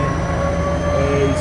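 A diesel locomotive with a 567 or 645 series EMD-type motor idles or runs close by on a Norfolk Southern local mixed freight, a steady loud droning rumble with sustained tonal hum throughout.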